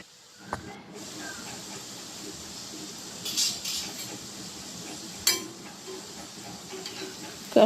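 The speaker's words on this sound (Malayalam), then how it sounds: "ആ എണ്ണയിൽ തന്നെയാണ് ഞാൻ ഈ ഇളക്കി മൊത്തം വറുത്ത് കോരിയെടുക്കുന്നത്" Rice flour and coconut kaliyodakka snacks frying in oil, giving a faint, steady hiss with a few brief clinks of stirring against the pan, close by and without speech.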